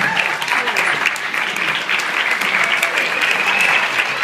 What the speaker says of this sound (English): Let's give a great big round of applause, ladies and gentlemen, for Ian and Lauren.